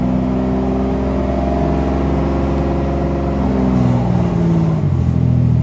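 A Mercedes SL600 engine running in third gear during a transmission test, holding a loud, close, steady hum that winds down as the gas is released, its pitch sliding lower toward the end.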